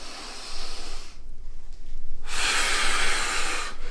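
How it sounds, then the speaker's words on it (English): A deep, loud, close inhale drawn in during a dumbbell chest exercise, with a rushing breathy hiss. It cuts off briefly before a second long, strong breath. "Inhale."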